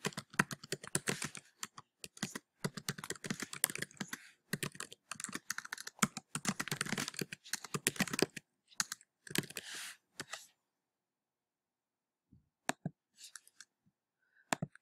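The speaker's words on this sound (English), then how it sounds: "And then they would just simply type into the box their responses." Typing on a computer keyboard, with quick, irregular runs of key clicks up close, a pause, and then a few scattered keystrokes near the end.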